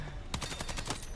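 Slow, evenly spaced gunfire from a low-fire-rate weapon in Battlefield 6, about seven distinct shots in quick succession, each a sharp broadband crack, fairly quiet overall and with no talking.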